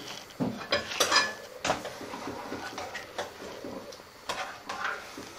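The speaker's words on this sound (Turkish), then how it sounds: "Şöyle bir karıştırıyorum." Pasta with cream and pesto being stirred in a pot, a spoon clinking and scraping against the metal in a series of close, irregular knocks and rattles without talk.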